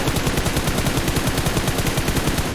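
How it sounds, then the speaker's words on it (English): Rapid automatic gunfire from the mobile battle royale game PUBG Mobile rattles on continuously in a dense, loud burst that fills the whole stretch with no talk over it. "You didn't hear the gunshots that led to the knock on Payne?"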